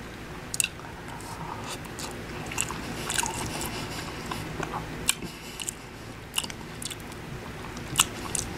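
Close, steady chewing and biting of homemade vegan Panda Express–style orange chicken, with soft wet squishes and occasional crisp crunches spread through the clip and no talking.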